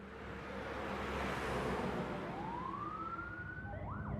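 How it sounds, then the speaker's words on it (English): Emergency sirens from an ambulance and police cars racing to a house, a wailing rise-and-fall tone emerging over steady traffic rumble and growing clearer toward the end. "an ambulance and a whole bunch of police cars came screaming up and parked in front of her house"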